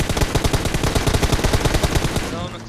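Rapid bursts of gunfire crack in quick succession, loud and close, a dense rattling volley that fades slightly at the end.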